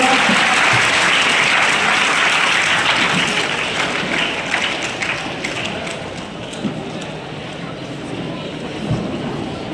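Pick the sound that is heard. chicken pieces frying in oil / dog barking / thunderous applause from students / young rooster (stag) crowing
thunderous applause from students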